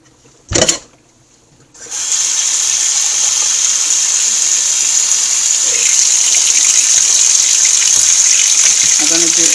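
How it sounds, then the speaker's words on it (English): Oxtail is rinsed under a kitchen faucet as part of a Jamaican oxtail recipe. After a brief knock, a steady, loud rush of running water comes on and holds for several seconds. "You want to make sure you wash off the oxtail."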